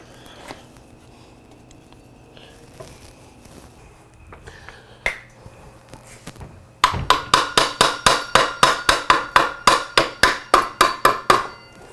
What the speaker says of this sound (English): Sometimes you just gotta hit things with a hammer.